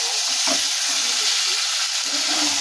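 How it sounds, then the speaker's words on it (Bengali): Fried chicken pieces sautéing in spices for chicken biryani, a loud steady sizzle with a few soft stirring scrapes, close up and with no talk. "ভাজার পরে এটা কষাতে হবে।"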